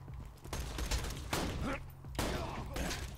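Guns fire in the video game Borderlands 2, with several sharp, loud shots and bursts coming in quick uneven bunches, each ringing out briefly before the next.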